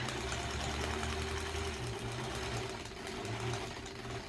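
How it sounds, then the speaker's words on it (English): A domestic sewing machine stitches forward and backward to back tack a quilt block seam, a steady close mechanical whirring hum that shifts slightly in pitch as direction changes, with no voices. "back tacking here. So forward, backwards, that's just kind of like tying a knot."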